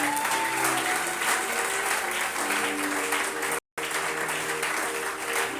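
A church congregation applauding their pastor at a special closing ceremony: steady, dense clapping from a large crowd, loud and continuous, with a brief cut partway through.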